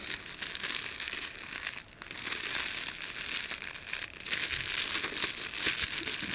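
Crinkly wrapping material is folded for a DIY baby bouquet, giving loud, continuous crackling and crumpling close by for the whole stretch, with a couple of brief dips.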